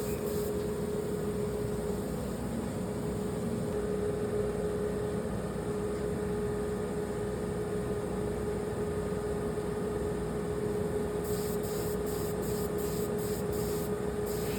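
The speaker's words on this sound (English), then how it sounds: "Now I'm cerakoting the scope to match." A spray gun hisses steadily and continuously while applying Cerakote coating to a rifle scope for a white snow camo finish, with a fairly loud constant rush alongside a faint tonal hum.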